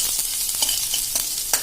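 Green chili and ginger sizzle in hot tempering oil for kadhi, a steady close frying hiss with a few brief louder crackles and stirring scrapes, no voices.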